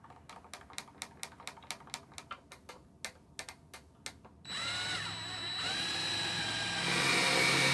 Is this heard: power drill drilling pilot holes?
yes